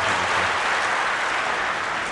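A studio audience at a French letters-and-numbers game tournament final applauds contestant Lucien: dense, even clapping, loud and close, sustained for the whole stretch with no talk over it.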